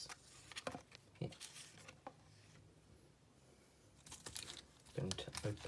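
Crinkly plastic foil of a Pokémon TCG Darkness Ablaze booster pack being handled and torn open, with scattered crackles and rustles coming in short bursts close up.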